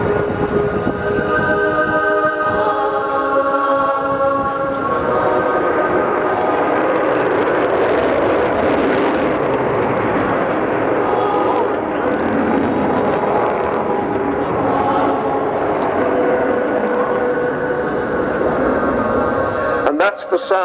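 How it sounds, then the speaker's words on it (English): Avro Vulcan bomber flying at an air show at Silverstone, powered by four Bristol Olympus 202 engines; a loud continuous jet roar with tonal whine and broad rumble that builds and holds throughout, with a brief clatter at the end. "That's the sound of the 4 Bristol Olympus 202 engines,"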